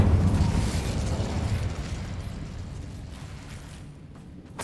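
The Incendio fire spell from Hogwarts Legacy erupts in a heavy, rumbling burst that starts loud and slowly fades away over a few seconds, with no voices.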